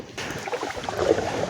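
Canoe paddling on open water outdoors, a soft steady splashing and dripping as the blade strokes through, with light wind noise across the microphone; no one speaks.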